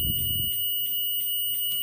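The buzzer of a DT83B mini digital multimeter sounds in a series of short, evenly spaced high beeps during a continuity check. A brief low thump comes at the start.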